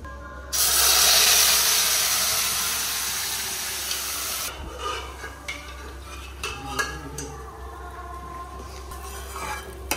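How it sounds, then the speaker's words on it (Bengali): A tempering of whole cumin and dried red chillies hits hot oil with a sudden loud hiss that slowly fades over several seconds, followed by scattered clinks and scrapes of a utensil in the pan. "গোটা জিরে আর শুকনো লঙ্কা দিয়ে ফোড়ন করে নিলেই হয়ে যাবে"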